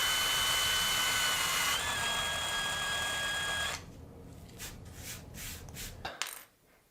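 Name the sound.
drilling out a rivet on a Matchbox diecast car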